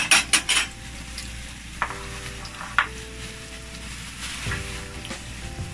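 Ground pork or beef for lumpiang giniling filling hits a hot pan with a couple of sharp metallic clanks, then settles into a steady low sizzle with occasional spoon scrapes as it is stirred, close and fairly loud.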